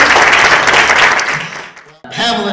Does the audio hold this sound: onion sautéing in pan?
no